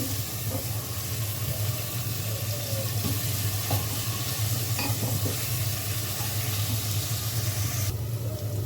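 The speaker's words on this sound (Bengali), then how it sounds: "পেঁয়াজটা ভাজা হলে সব মশলা দিয়ে মশলাটা কষিয়ে তারপর মাংসটা দিব" Onions and spices frying in a pan for a spicy beef khichuri meal: steady close sizzling with occasional stirring scrapes, continuous and moderately quiet.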